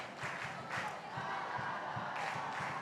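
Spectators at a field hockey match between Australia and Malaysia chant and cheer together, a steady wash of crowd noise with rhythmic pulses underneath, heard from a distance without commentary.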